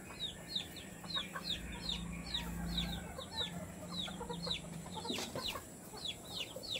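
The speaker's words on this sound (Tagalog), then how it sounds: "Yung mga inahin dito." Gamefowl mother hens cluck in a steady stream of short, rhythmic chirps, several birds overlapping at moderate distance, with a low rumble partway through.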